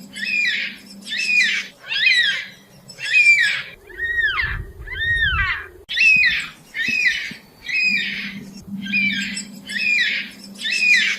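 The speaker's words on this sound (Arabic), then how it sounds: "الكوكاتو الأسود أصفر الذيل" Yellow-tailed black cockatoo giving loud, drawn-out wailing squawks, about a dozen repeated in steady rhythm at close range, with a low rumble underneath some of them.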